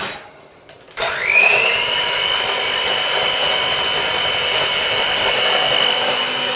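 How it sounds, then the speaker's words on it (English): An electric hand mixer whirs into life after a quiet moment and runs at a steady high pitch as it beats Yorkshire pudding batter, close and loud with no talking. "before I put the flour in, I am going to mix these up"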